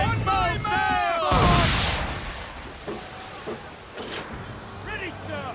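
Cannon and swivel gun fire from a naval battle in Assassin's Creed III, with one loud close blast followed by fainter booms and shots, while crew voices shout over the battle.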